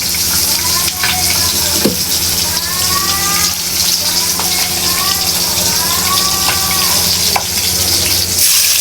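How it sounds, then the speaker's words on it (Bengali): Cumin, dried chili and black cumin sizzle loudly in hot oil as a tempering, a steady close crackle with stirring, while a cow lows several times in the background. "জিরা, শুকনো মরিচ আর কালো জিরা ফোড়ন দিলাম।"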